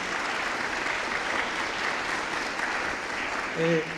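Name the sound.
applause for Elizabeth Padilla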